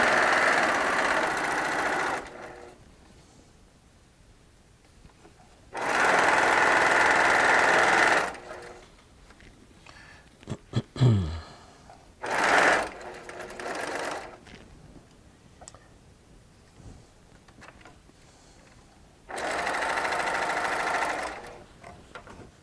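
A sewing machine joins quilt blocks in three separate loud bursts of rapid stitching, each a few seconds long, with quieter handling and fabric rustling between them.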